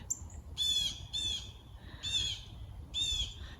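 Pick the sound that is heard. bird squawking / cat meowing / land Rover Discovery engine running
bird squawking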